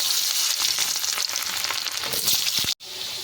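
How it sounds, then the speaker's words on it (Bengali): Potatoes frying in hot oil for a jackfruit and prawn dish, a steady close-up crackling sizzle with faint stirring scrapes, cut by a brief silent gap near the end before the sizzle resumes. "তেল গরম হয়ে এসছে, এবার আলুগুলো ভেজে নেব।"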